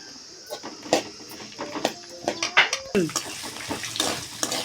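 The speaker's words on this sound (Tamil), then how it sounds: "நல்லா பூண்டும் இஞ்சும் நல்லா வேகட்டும்" Garlic and ginger cook in a pan with light frying sizzle beneath intermittent clinks and scrapes of a utensil against the metal, close and uneven in rhythm.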